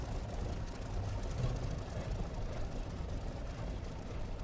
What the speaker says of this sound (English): And there we go. Engine start.